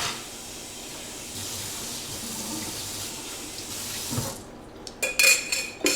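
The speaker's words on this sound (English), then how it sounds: "Quick rinse, that's clean." Water running from a kitchen tap to rinse dishes, a steady broad hiss that cuts off near the end, followed by a few bright clinks of dishes and cutlery.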